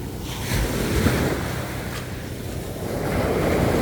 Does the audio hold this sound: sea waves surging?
yes